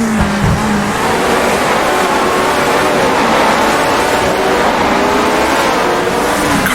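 Loud, continuous V8 engine note of a 1966 Brabham Repco Grand Prix racer in a racing simulation, holding steady under power with rising harmonics, no speech.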